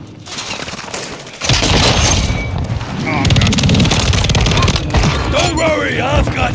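Gunfire in Modern Warfare 3 crackles in loud bursts of rapid automatic shots with mechanical clatter, mixed with shouted game voices and excited players talking over the fighting.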